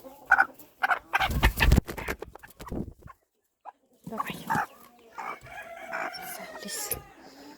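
On a farm, chickens and a rooster cluck and crow in loud, close bursts separated by brief gaps, while someone talks to the birds.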